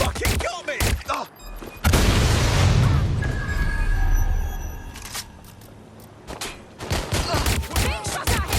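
Bursts of gunfire and a loud explosion in the video game Watch Dogs Legion, with sharp shots at the start, a heavy boom that rumbles and fades, then more rapid shots near the end.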